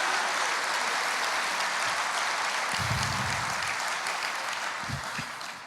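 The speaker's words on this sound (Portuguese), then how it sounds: "Aplauda o Senhor, porque nós estamos vivendo nisso." A church congregation applauds in a dense, sustained wash of clapping that holds steady, then tapers slightly toward the end, with a faint murmur of voices under it.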